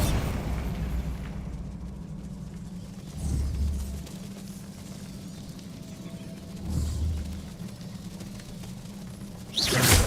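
Bombarda explosion spell in Hogwarts Legacy: two deep booming blasts a few seconds apart, each a low rumbling burst over a steady ambient drone, followed by a sharper crash at the end.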